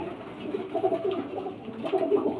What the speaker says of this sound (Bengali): এখানে সব বাচ্চা পায়রা আছে